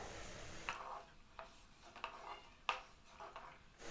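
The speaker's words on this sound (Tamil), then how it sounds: "வெல்லத்தை போட்டு கிண்டி விட்டுக்கோங்க." A spoon scrapes and taps against a pan as jaggery is stirred into milk pudding, making faint, sparse clinks and rubs spread over a few seconds in a quiet kitchen.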